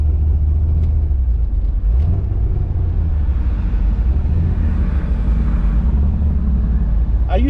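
A cammed C6 Corvette Z06 with a modified LS7 engine drives along, its deep engine rumble loud and constant inside the cabin, with a brief rising note near the end.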